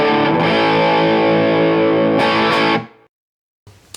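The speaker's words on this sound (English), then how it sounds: "I'm going to be talking about stupid whammy tricks." Distorted electric guitar with a whammy (vibrato) bar, a loud sustained chord that warbles and shifts in pitch for nearly three seconds, then cuts out abruptly; a brief silence follows before a faint noisy tail.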